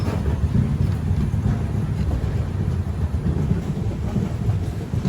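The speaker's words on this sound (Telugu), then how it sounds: "కడప ప్లాట్ఫామ్ నుంచి మన ట్రైన్ అయితే బయలుదేరింది." A passenger express train pulling out of Kadapa station, a continuous low rumble and rolling rail noise close by, steady throughout with no talk.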